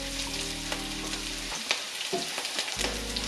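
Green beans and carrots with green chilies sizzle loudly in a hot pan as they are stirred, with a steady frying hiss and brief scraping stirs partway through.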